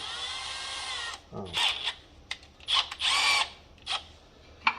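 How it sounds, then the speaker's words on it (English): Power drill boring out an old brake line fitting on a 1972–1993 Dodge truck, with a sustained whine followed by several short stop-start bursts and clicks, close and fairly loud. "We got to get this drilled out."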